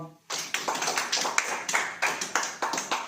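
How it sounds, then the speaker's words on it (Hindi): A church congregation claps hands together in a strong, regular rhythm, loud, close and sharp repeated bursts after a brief quiet start. "ताली बजाओ"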